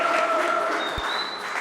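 A church audience applauds for a pastor, a short burst of clapping from the crowd that carries under a voice and tapers off.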